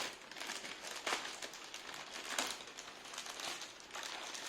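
Plastic packaging around a TVS Gold Bharat mechanical keyboard is torn open. It gives faint, close crinkling and rustling in irregular bursts, with a couple of sharper tearing swells.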